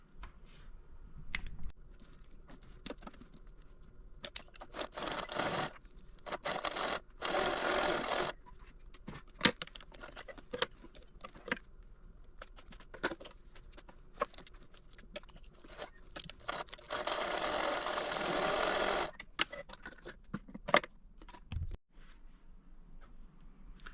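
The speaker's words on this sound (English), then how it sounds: "Now I'm just going to base this in place, just about a 1/4 inch seam on both sides." A sewing machine stitches a quarter-inch seam on a fabric tablet wristlet in short bursts of whirring separated by pauses, with handling clicks and rustles between runs and no talking.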